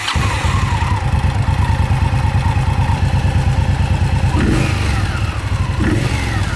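Indian Scout motorcycle with a stock stage 2 exhaust revs loudly and continuously up close, a deep rumbling engine note holding steady with brief throttle blips toward the end.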